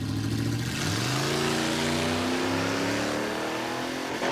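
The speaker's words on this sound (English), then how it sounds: "Oh, he's on the rev limiter." A car engine on a Roadkill off-road drag run sits hard on the rev limiter, a loud, close, steady bouncing drone whose pitch climbs gradually before cutting off near the end.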